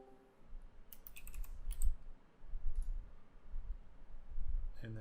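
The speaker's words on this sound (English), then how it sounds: "AFRM, so let's type that in." Keys clicking as a stock ticker is typed on a computer keyboard, a short burst of taps followed by scattered clicks, moderately close and fairly quiet.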